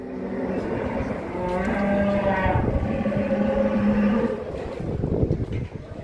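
Cattle at a Turkish livestock market in Çorum Sungurlu, a long drawn-out moo rising and holding for several seconds over a busy outdoor background, with a second lower call near the end.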